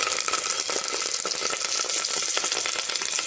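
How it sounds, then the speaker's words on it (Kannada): Fenugreek seeds, cumin and urad dal frying in hot oil for a South Indian gojju, giving a steady, close, bright sizzle with no talk. "ಮೆಂತ್ಯ, ಜೀರಿಗೆ, ಉದ್ದಿನಬೇಳೆ ಹಾಕ್ತೀನಿ."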